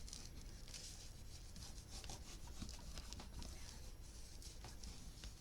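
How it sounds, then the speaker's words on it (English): Paper pieces for an art memory book are burnished by hand, a faint, close, continuous scratchy rubbing with quick back-and-forth strokes. "That just needed a bit more burnishing."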